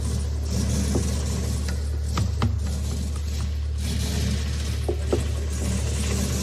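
A Chevrolet Camaro LS crate engine running rough with a suspected exhaust leak and knock, a steady loud mechanical drone with uneven pulses and a few sharp transients, no talking.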